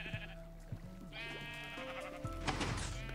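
Sheep on a Minecraft sheep farm let out a run of overlapping bleats, one after another, clear and close, with a low steady hum underneath and no speech.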